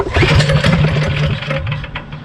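A drift kart engine catches and starts, firing in rapid uneven pulses that settle into a close, loud, rough idle, with no talking.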